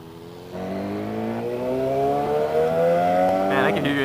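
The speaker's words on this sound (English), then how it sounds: "I can hear your exhaust" A motorcycle engine revs steadily upward in pitch, loud and close, with a sharp rising whine near the end.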